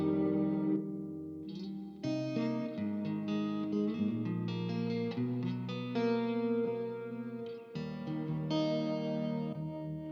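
Electric guitar played through an RJM PBC6X 24x12.5 rig as different effects presets switch on, its chords thick with chorus, distortion and reverb, loud and continuous with brief changes between sounds.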